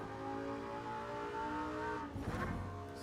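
A Lamborghini Sesto Elemento at Monza holds a steady, high engine drone. Near the end comes a brief rough burst that sounds like a gear change or braking. The sound is fairly faint.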